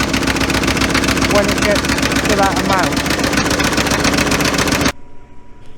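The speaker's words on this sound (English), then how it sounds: "I'm in the tractor now, driving across the field" A tractor engine rumbles steadily while driving across a field for a steady rolling job, with someone talking over it. The engine noise cuts off abruptly near the end.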